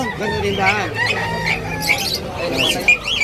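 Chickens at a pet market in Bocue, Bulacan, clucking and squawking in repeated bursts close by, with a busy crowd murmur behind them.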